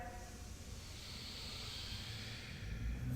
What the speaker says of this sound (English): Remember the ocean wave sound of the Ujjayi breathing.